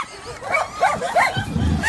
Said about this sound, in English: dog's freaking.